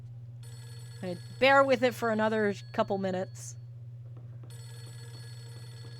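A home telephone keeps ringing in a haunted-house horror game, a faint steady electronic tone beneath a low hum while a voice speaks briefly over it.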